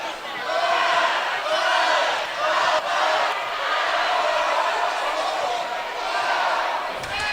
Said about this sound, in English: And there goes our cheering section.